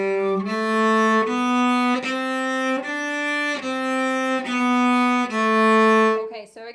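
Cello playing the opening of Song 110, starting on an up bow with the second finger: a run of sustained, clearly separated bowed notes in a steady rhythm, close and alone.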